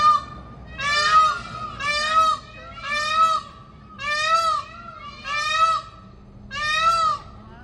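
A large bird at Kuala Lumpur Bird Park calls in loud, nasal, honking bursts. Seven regular calls come about a second apart, close and clear over a faint background murmur.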